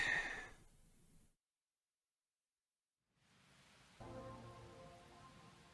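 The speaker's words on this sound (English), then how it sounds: "More rain." Rain falling in the video game Rain Code: a steady hiss of rainfall fades out into a couple of seconds of silence, then returns and thickens into a fuller downpour.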